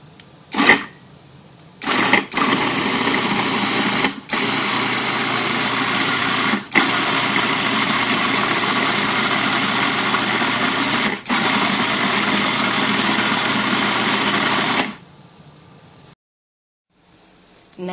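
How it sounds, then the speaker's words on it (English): A food processor whirs steadily as it chops onion, green pepper and fresh cilantro, running loud and continuous with a few brief pauses and pulses before switching off. "you're going to process this until the vegetables are finely chopped"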